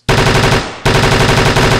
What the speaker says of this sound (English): there's also a shooting mechanic that kind of makes the bullets go everywhere